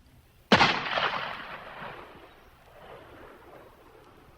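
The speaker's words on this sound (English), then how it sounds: "Carter Drews was calm as he pulled the trigger of his gun." A single loud gunshot fired in a Civil War-era story, one sharp blast followed by a long rumbling echo that slowly fades, with no voices.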